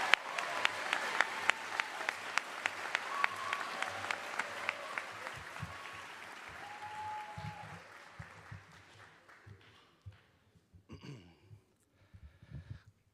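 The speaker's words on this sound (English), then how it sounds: "let's give a round of applause, another round of applause to Garza's newest graduates" A high school graduation crowd claps, at first with a few sharp, distinct claps and then as fuller, moderate applause that gradually fades, with some murmuring and scattered claps at the end.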